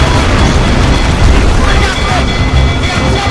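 Cannon fire in a naval battle from the video game Assassin's Creed Rogue, a loud, dense roar of booms and blasts filling the whole clip, with no clear gaps between shots.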